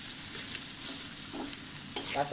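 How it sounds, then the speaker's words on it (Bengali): Onions with salt and turmeric sizzle steadily in hot oil in a pan, a bright continuous hiss broken by a few soft stirring scrapes, close and without talk. "পেঁয়াজগুলো ভালো করে ভেজে নেবো"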